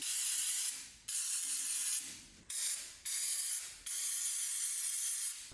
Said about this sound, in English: I'm using some of this throttle body cleaner just because I don't want to accidentally mess it up